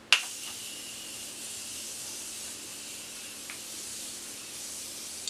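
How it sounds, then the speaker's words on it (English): Morphe Prep and Set setting spray mists out in a quick, sharp spritz, followed by a faint lingering hiss and another soft spray later, close and quiet. "Let me put on setting spray before I go crazy. I'm going to use the Morphe Prep and Set."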